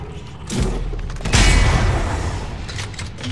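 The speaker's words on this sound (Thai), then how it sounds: "กูยิงระเบิดขู่ไว้ก่อนตามนั้น" A grenade explosion in Dead Space 2 erupts as a heavy booming blast with a deep low rumble, followed by a long crackling decay, after a smaller thump just before; no speech.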